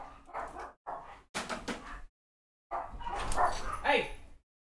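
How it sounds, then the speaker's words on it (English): Several dogs bark and yelp in excited bursts, close by and fairly loud, with a short pause partway through and a high whimpering yip near the end. "My dogs are going ballistic."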